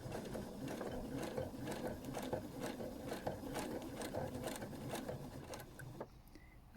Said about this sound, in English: So we're just going to do a couple of stitches.